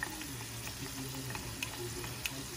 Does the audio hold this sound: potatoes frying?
yes